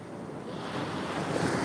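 Sea waves roll in back to back at Shankarpur beach, a dense, continuous surf roar close by with wind buffeting the microphone.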